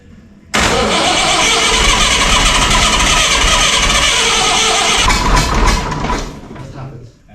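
A Massey 1200 tractor under restoration cranks and fires into a loud, close, rough-running engine that holds steady for several seconds before tapering off.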